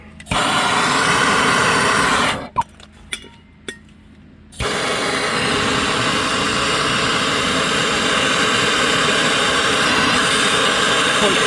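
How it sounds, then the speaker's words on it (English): A MAPP gas torch roars steadily while heating a pinch bolt on a Jaguar X-Type during a spring replacement, a loud continuous hiss broken by a short pause with a few clicks and knocks before the flame resumes. "I'm going to give that cherry red with the map gas gun"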